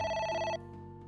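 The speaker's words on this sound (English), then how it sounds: "Ah, damn it. A phone." An electronic phone ringtone chimes in AI: The Somnium Files, a short bright tonal ring that cuts off after half a second, leaving a lower steady hum.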